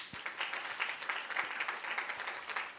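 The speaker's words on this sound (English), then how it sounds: "let's give every single person in the room a round of applause and a welcome" A room full of people at an International Women's Day round table breaks into sustained applause, dense overlapping claps rising and falling evenly for the whole stretch without any talk.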